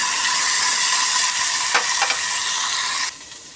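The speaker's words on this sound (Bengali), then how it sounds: "এখনও চলছে ভাজা ছোলাটা।" Chickpeas frying in hot oil with cumin, coriander and dried chilli, a close, steady sizzle with a couple of scraping stirs near the end before the hiss drops quieter.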